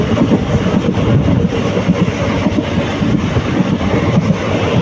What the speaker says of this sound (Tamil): ட்ரெயின் செம்ம வேகம்